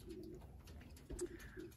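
A racing pigeon coos in a loft, soft repeated low coos in a few bursts, faint and close, with no voices.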